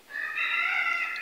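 A cat gives one short, clear meow, close by and alone.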